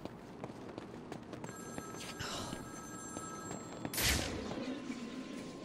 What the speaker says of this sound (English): Answer my phone and answer it quick, Batman!